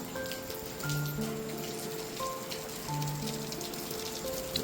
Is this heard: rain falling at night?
yes